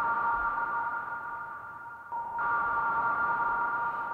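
An atmosphere pad preset on a synthesizer holds a steady, sonar-like tone with a faint airy wash beneath. Partway through the pitch shifts slightly and the texture brightens, sustaining quietly and evenly throughout.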